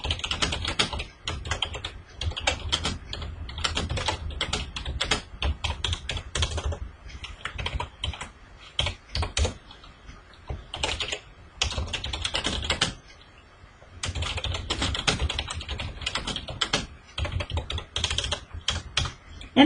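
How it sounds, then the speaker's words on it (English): Steady, fast typing on a computer keyboard, close and clear, with dense clattering keystrokes that pause briefly now and then before resuming. "I'm going to type some details in here."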